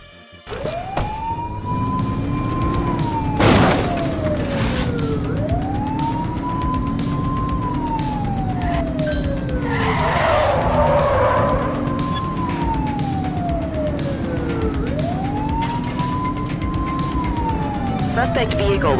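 Police car sirens wail in a rising and falling cycle during a chase in the video game The Precinct, with engine noise and a brief skid partway through, and a voice talks over them.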